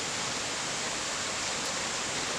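Water of the Cikidang River rushes steadily in a broad, constant wash of noise, close and unbroken, with no voices over it.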